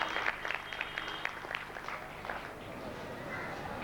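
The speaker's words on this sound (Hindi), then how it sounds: "जरा जोर से ताली लगाइए।" Audience applause at a Gita Ramayan Mahayagya religious gathering, a fairly faint, continuous patter of clapping from a crowd that holds steady for the whole stretch, with some background voices mixed in.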